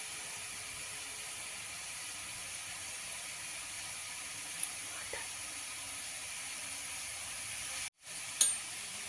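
Uppu seedai, small salted rice-flour balls, frying in oil in a small kadai, giving a steady, quiet, continuous sizzle with a few faint clicks and a brief dropout near the end.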